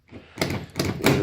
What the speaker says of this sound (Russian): Закрыли дверь